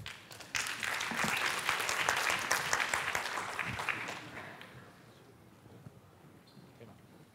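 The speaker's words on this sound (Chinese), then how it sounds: "那我们掌声来欢迎我们的植物辨识图鉴团队" An audience at the g0v Summit 2018 civic tech grant showcase gives a burst of clapping that starts abruptly, holds strong for several seconds, then thins and fades into a quiet room.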